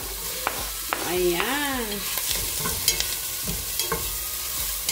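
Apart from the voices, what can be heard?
ginger sizzling while stirred in pot for chicken soup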